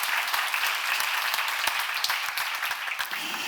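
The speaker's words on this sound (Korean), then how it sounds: "박수 한번 주세요." A church congregation applauds during a sermon, with dense, steady clapping and sharp individual claps throughout, fairly close and filling the room, with no talking.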